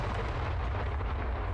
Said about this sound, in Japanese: あ、雷だった。